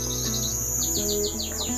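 A canary chirps in quick repeated sweeping notes, a close, bright rapid series of trills over a faint electronic hum.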